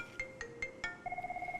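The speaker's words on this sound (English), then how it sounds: "Andrew's Jabber client's ringing, his fixed phone's ringing and his mobile phone's ringing" Several phones ring at once, a Jabber software client, a fixed desk phone and a mobile, with four evenly spaced electronic chirps followed by a fast warbling trill, quiet and close with no talking.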